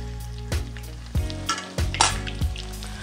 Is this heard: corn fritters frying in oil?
yes